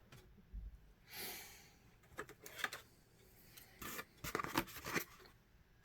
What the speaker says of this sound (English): These are just regular old everyday scissors.